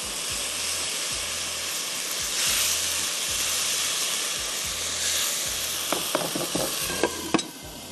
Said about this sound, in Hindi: फिर तेल गरम किया, उसमें मैंने कच्ची प्याज डाली, वो जो पिसा हुआ मसाला था वो डाला, उसको भून रही हूँ